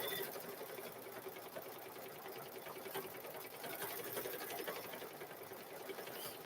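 An embroidery machine stitches the last row of a cow-themed quilt, a steady rapid mechanical chatter running continuously and fairly close, with no talking over it.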